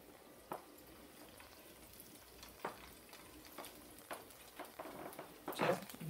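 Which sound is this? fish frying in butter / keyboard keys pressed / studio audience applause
fish frying in butter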